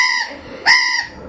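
Pet bird squawking loudly indoors at home, two harsh, strident calls close to the microphone, the second louder and sharper, separated by a brief pause.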